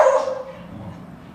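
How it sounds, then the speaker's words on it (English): A single dog bark, loud and close, with a sharp onset that quickly fades into a softer whimpering tail, with no talking over it. "I am going to pay attention to that bark"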